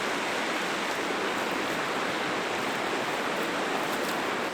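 Broadband rushing water of a river flows steadily and continuously at close range with no other sounds, a dense hiss that stays even and unbroken throughout on a cool, damp morning.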